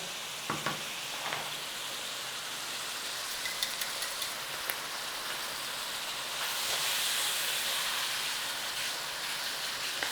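Minced meat browns in a pan, salted and peppered, with a steady, hissing sizzle close by. A few clinks and stirring taps come early, then the frying swells louder toward the end with no talk.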